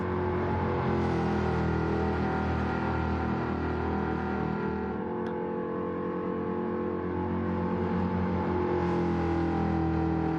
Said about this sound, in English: we will stick with the Mustang just to hear it burble around at tick over pace